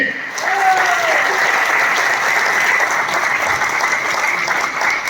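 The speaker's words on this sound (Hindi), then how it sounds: "दोस्तों तालियां बजनी चाहिए" Loud, dense applause fills a business success seminar hall, a continuous roar of many hands clapping at close range without a break, with a faint whistle-like tone near the start.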